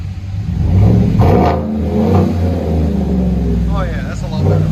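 A 2017 Chevy Silverado with a 5.3L V8 and Black Widow Race Venom dual exhaust revving close by, with a deep, throaty rumble that rises and eases over several seconds while people talk nearby.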